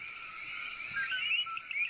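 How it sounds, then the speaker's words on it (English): Coqui frogs chorus at night in a Caribbean rainforest after rain, a dense layer of high chirping calls with a few clearer whistled notes rising over it, steady and moderately distant. "It has rained, and male frogs are calling everywhere."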